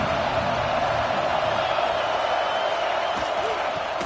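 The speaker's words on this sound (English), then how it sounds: "This crowd bringing the energy and noise early." Football stadium crowd at a Texas game, a steady dense roar of many voices filling the whole stretch with no breaks, loud and continuous throughout.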